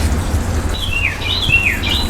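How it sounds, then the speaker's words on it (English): Several short descending bird chirps, fairly faint, over a steady low background rumble of a griddle cooking bacon, coming in quick bursts across the second half. "Hear the bird?"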